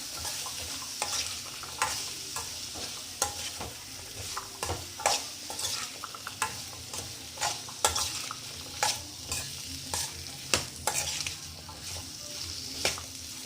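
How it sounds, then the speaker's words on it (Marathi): Sliced carrots sauté in oil in a pan, a continuous sizzle broken by regular scraping and clattering strokes of a spatula turning them, close and moderately loud, with no speech. "त्यानंतर आपण हे जे धुतलेले गाजर होते काप केलेले ते टाकूया आणि छान परतून घेऊया."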